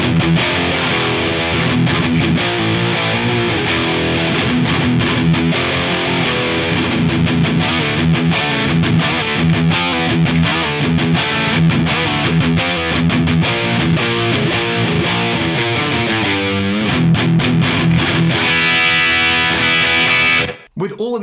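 A distorted electric guitar through a JMPre-1 amp model plays heavy chugging riffs with a classic 90s scooped, bass-heavy tone, loud and steady, ending abruptly.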